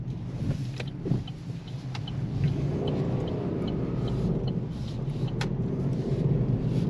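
A 2023 Vauxhall Opel Corsa pulls away in first gear, with a steady low engine rumble building slightly as it moves off, heard from inside the car with a few faint interior clicks.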